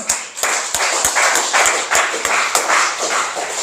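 A church congregation claps together in a steady rhythm, a run of sharp claps about three a second, close and fairly loud.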